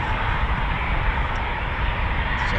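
Eurofighter Typhoon FGR4 jet at RAF Coningsby, a steady broad roar of engine noise that stays loud and continuous throughout, with no voices.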